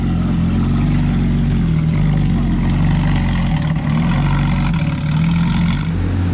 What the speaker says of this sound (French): C'est dingue le vrombissement du W16 de la Chiron.